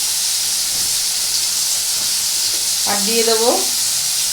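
Tomato frying in oil in a pan gives a continuous soft sizzle and hiss. A person speaks briefly partway through.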